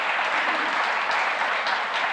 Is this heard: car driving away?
no